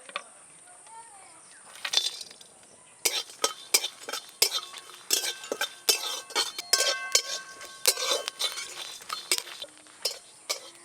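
Whole fennel, a dried chilli, small cardamom, cloves, cinnamon and star anise dry-roast in a pan, with a spatula scraping and clinking against the metal in a quick, irregular run of sharp taps, close and clear.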